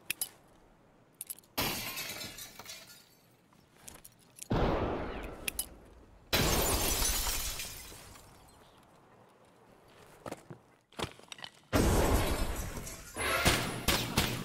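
Video game grenades are hurled through windows: bursts of shattering glass and blasts come in several loud separate spells, with quiet gaps between them.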